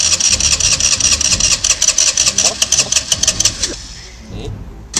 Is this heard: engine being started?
yes